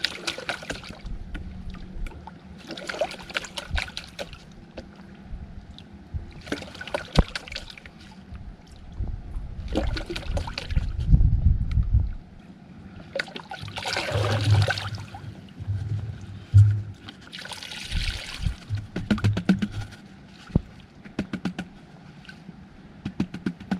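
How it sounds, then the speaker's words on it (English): Snuffer bottle sucking up black sand concentrates from water in a gold pan, heard as intermittent soft gurgles, slurps and watery sloshes, fairly faint and close, with quiet gaps between. "This is where the snuffer bottle gets slow."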